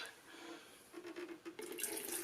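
Water poured from a jar into a cooler or glass during an indoor demonstration: a soft, steady trickle that grows brighter and fuller toward the end, with no talking over it.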